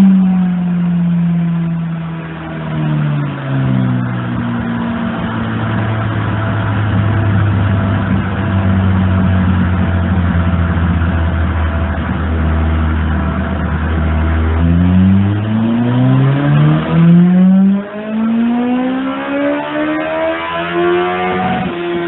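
A motorcycle fitted with a new air filter and an MWR part revs hard on a dyno bench, the engine note sliding down through the gears and then sweeping up sharply again, loud and close with no talk.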